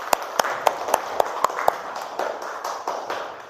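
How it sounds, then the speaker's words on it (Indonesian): Children in a primary school classroom clapping together, a run of about seven sharp, evenly spaced claps followed by looser, softer scattered clapping. "Beri tepuk tangan untuk yang piket hari ini."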